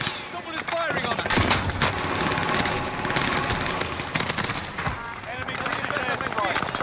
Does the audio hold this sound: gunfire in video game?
yes